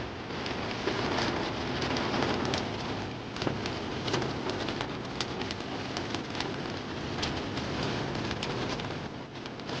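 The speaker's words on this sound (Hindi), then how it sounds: "केदार घाटी में ज़बरदस्त बारिश शुरू हो गई है।" Heavy rain and strong wind sweep through the Kedar valley in the Himalayas, a dense, steady roar of rain and gusts that holds without pause throughout, with no voices.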